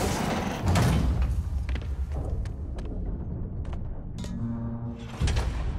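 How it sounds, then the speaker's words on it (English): A trap door opening in a Spider-Man video game: heavy mechanical rumbling and scraping with scattered clanks and thuds, building to a sliding grind near the end, loud and close without speech. "Trap door."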